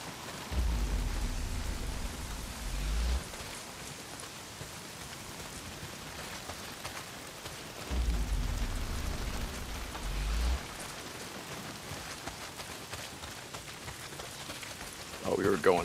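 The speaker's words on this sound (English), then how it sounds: "Well, not if it's pissing down rain." Heavy rain pours steadily in the Days Gone video game, a constant broadband hiss broken twice by deep low rumbling swells before a brief louder patter at the end.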